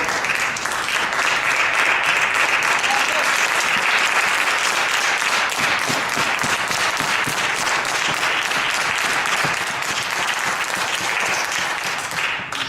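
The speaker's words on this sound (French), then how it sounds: "je vous remercie des applaudissements" Steady, dense applause rolls through a deliberation session on a housing-rights complaint, loud and continuous for the whole stretch before easing slightly near the end.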